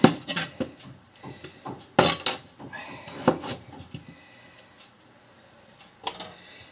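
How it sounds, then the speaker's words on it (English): A knife chops small potatoes on a cutting board in a home kitchen, with irregular close knocks and clicks that are loud at first and then grow sparser and fainter, ending in one sharp tap; nobody speaks. "I'll probably cut up like about 8 or 10 of these little potatoes"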